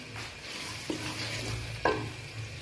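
Minced meat fries in a pan before the cabbage goes in, giving a soft, steady sizzle with two distinct spoon knocks against the pan a second apart.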